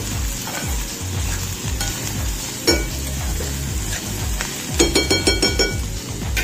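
Chicken sautéing with homemade Malvani masala in a pan, a steady close sizzle under rhythmic stirring strokes, with a burst of metal utensil clinks against the pan near the end and no voices.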